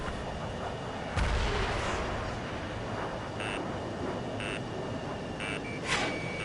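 Aircraft weapons firing in the combat flight game Ace Combat 7, a steady roar of cannon and engine noise with a sharp burst near the start and short tonal alert beeps repeating throughout.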